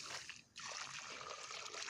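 Water trickles and splashes steadily into the soil of a potted fig tree mixed with a growth stimulant, a close, continuous pour that dips briefly before resuming.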